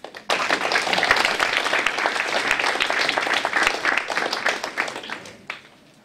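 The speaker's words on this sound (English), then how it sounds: "Please give our panelists a warm applause." Audience applause for a panel of speakers at an energy debate on the future of fossil fuels, a dense burst of clapping that starts abruptly, holds steady for several seconds, then thins out near the end.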